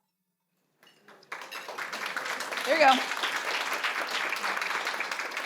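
Audience applause at a legislator education forum, starting after a brief spoken remark and building into moderate, steady clapping from a room of attendees, with a voice briefly audible mid-clap.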